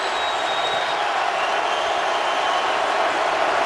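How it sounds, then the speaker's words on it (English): A steady, loud roar from a large NFL stadium crowd during the 2016 Buccaneers at Falcons game on a big third down, dense and continuous without breaks. "Crowd loud"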